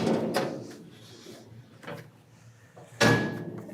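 The table of a Guardian bone-cutting safety saw is closed, producing a few metallic knocks and a final firm clunk near the end, close and moderately loud, with no talking.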